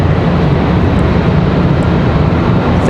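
A Copa airliner passing near Raleigh-Durham airport on its arrival approach, a steady broad engine roar holding at even loudness throughout, with no talk over it.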